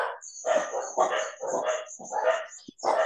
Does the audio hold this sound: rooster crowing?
no